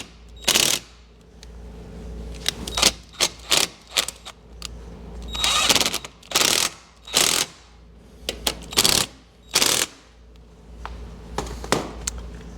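Bolt being tightened on a motorcycle carburetor intake during a CV carb swap, a series of short sharp ratcheting bursts in an uneven rhythm, close and fairly loud, with no one talking.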